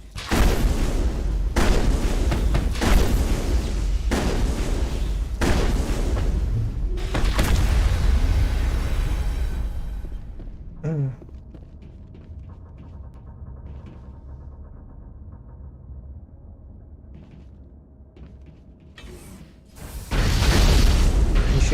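Explosions in Mass Effect boom in a heavy run of loud, rumbling blasts for about ten seconds, then the scene drops to quieter mechanical and ambient game sounds before another loud burst near the end.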